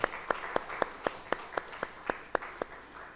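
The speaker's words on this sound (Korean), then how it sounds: "우리 하나님께 영광의 박수를 내드리시겠습니다." A church congregation claps together at a steady rhythmic beat after a hymn of praise, a dozen sharp unison claps ringing out over a soft hum of the room.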